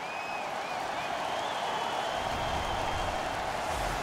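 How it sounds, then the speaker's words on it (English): A home crowd cheers after a hockey fight in NHL 15, a broad, steady roar of arena noise that swells slightly toward the end, with no talking. "The home crowd is ecstatic. They're making all kinds of noise."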